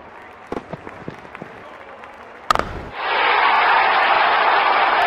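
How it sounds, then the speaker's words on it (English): A stadium crowd in the Real Cricket 20 video game swells into a loud, sustained roar of cheering after a sharp impact and a few scattered knocks. "Crowd is going crazy."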